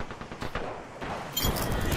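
Rapid automatic gunfire rattles in a shooter video game. It starts as a tight burst and swells into a louder, continuous volley toward the end, with no talk over it.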